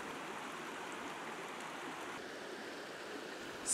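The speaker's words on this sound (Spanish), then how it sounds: "Bajo el puente pasa el río Girón, que unos metros arriba se une con el río Chorro." The Girón river runs beneath a bridge as a steady, even rush of flowing water with no other sound over it, close and continuous, and a slight swell in level right at the end.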